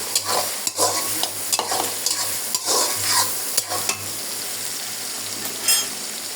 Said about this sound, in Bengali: পেঁয়াজগুলোটা ভালো করে ভেজে নেবেন।